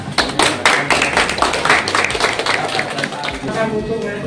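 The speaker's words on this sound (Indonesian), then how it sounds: "Tepuk tangan." A group of scouts in a classroom claps together in a quick patterned rhythm, sharp closely spaced hand claps that are loud and near, carrying on steadily for several seconds.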